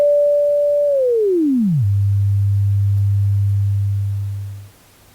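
A synthesized sine tone from a Bela example project: a loud steady pure tone that glides smoothly downward to a low hum, holds there, then fades away near the end.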